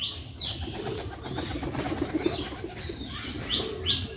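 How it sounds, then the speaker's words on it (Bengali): Pigeons outdoors near a ginger field, giving soft cooing with a few high chirps and brief wing flutters over a low background murmur, moderately loud and fairly close. "অলরেডি কিন্তু কবুতরগুলো এখনও আছে"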